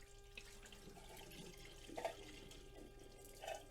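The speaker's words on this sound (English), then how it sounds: "Let's dump off the tap water." Tap water being poured off into a sink during gold recovery from jeweler's bench sweeps, a faint, soft steady trickle with a couple of small splashes, quiet and close.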